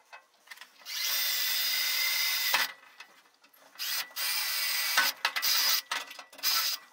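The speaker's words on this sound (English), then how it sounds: "Try to ream them out a little bit" A power drill reams out holes in a cargo trailer in short, loud whirring bursts with pauses between them, close up and without speech.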